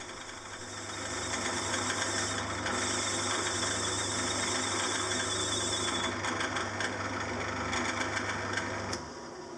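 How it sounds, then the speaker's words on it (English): A lathe cutting a small chamfer on the end of a spigot for a pillar tool table, a steady close mechanical whir with a low hum that runs evenly for several seconds, then stops near the end. "the last operation for this setup is just to put a little chamfer on the end of the spigot"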